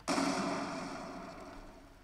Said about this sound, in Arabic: عندنا هون كمان انفجار